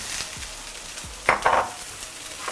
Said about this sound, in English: so I'm adding the mushrooms